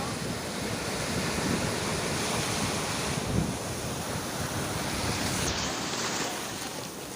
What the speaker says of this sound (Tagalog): grabe oh. Ang laki ng alon oh.